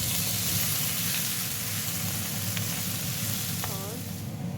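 Vegetables hit hot oil with garlic in a pan and sizzle loudly and steadily, a dense frying hiss with a few faint clinks, no talking.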